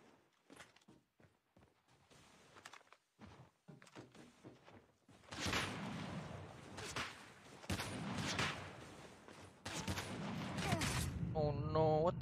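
Sniper rifle fire in a fast-paced 1v1 video game duel, several sharp gunshots ringing out from midway on, mixed with footsteps and quick movement sounds, loud and close under background game audio.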